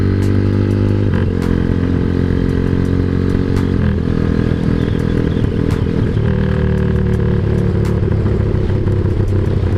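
A Honda Tiger motorcycle engine runs loud and close throughout, its steady rumble shifting in pitch as the rider revs and changes speed.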